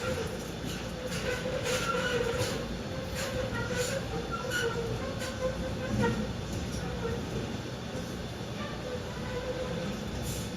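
A steady rumble and clatter fill the interior of a running subway train, with faint rhythmic wheel clicks over a constant roar and a voice murmuring now and then.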